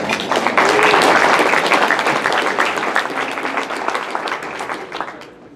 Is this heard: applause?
yes